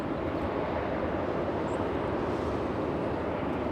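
An Airbus A330neo airliner at LAX airport gives a steady, broad engine roar that holds evenly throughout, fairly close and continuous, with no talk over it.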